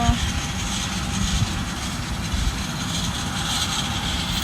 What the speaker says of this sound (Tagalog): Aeroplano.